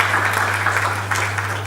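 Audience applause at a gender equality conference for Nana Tishua: steady, dense clapping filling the whole moment at even loudness, with a constant low hum underneath.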